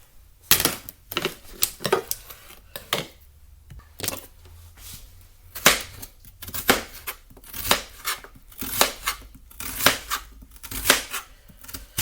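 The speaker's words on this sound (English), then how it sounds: "now I'm going to go ahead on and chop my onion" A knife chops a red onion on a cutting board in a home kitchen, a run of sharp, separate taps in an uneven rhythm. Each stroke is close and crisp, with quiet pauses between them and no talking.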